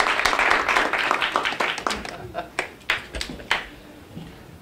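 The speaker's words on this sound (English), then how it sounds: "Give him a round of applause." Applause at a swearing-in ceremony for a county board of education chair, a brief burst of clapping from the audience that thins into a few scattered claps before fading.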